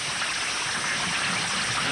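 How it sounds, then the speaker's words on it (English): Steady rushing water pours into a car sinking in the Kanawha River, a constant broadband gush filling the space with no pauses. "The car rolls into the Kanawha River. It will sink in less than a minute. Got water coming in."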